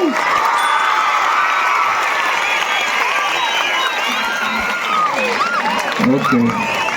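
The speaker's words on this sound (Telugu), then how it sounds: "ప్రిన్సిపాల్ గారికి చప్పట్లు" A school crowd at a Sankranthi festival celebration cheers and shouts loudly for the principal, a sustained roar of many excited children's voices with high whoops and some scattered clapping, close and continuous.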